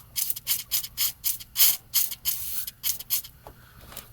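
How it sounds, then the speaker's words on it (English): Penetrating fluid is sprayed onto a hydraulic hose nut in short, hissing aerosol bursts, about nine of them in quick succession, loud and close. "I'm just going to shoot it with some penetrating fluid."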